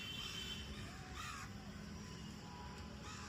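Crows cawing in the open under a clear evening sky at dusk as birds return to their nests on a cold day, harsh calls rising briefly over a steady wash of distant background noise, with no talk.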